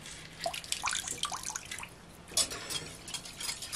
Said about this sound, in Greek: Σε ένα μπολ έχω βάλει λίγο νερό, εντάξει, θα βάλουμε λεμόνι. Θα στύψουμε μισό λεμόνι.